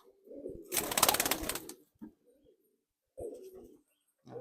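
Pigeons coo in low, throaty bursts with a flutter of wings in between, close and fairly quiet, with pauses between calls.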